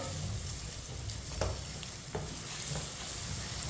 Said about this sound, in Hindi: प्याज को 2 मिनट के लिए चम्मच चलाते हुए पका लेंगे।